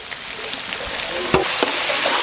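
Potatoes fry in hot oil with chilli powder, curry masala, garam masala and turmeric, giving a steady, loud, close sizzle with a couple of sharp clinks from a utensil.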